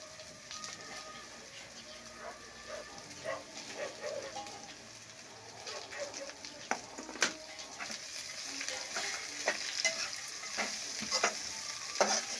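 Onions and broad beans sautéing in a pan, a steady close frying sizzle with scattered scraping stirs and a few sharper utensil clicks throughout.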